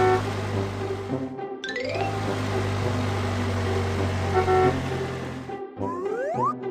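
Cartoon truck driving along with a steady engine hum and bouncy sound effects, including rising tonal toots that suggest a horn honking, loud throughout with brief gaps.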